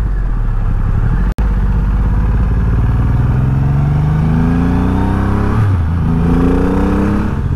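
A 2023 Triumph Rocket 3 R motorcycle engine pulls in third gear at around 3,000 RPM and 48 mph, a loud, steady engine drone with rising pitch and a brief dropout and gear change near the end, with no talk.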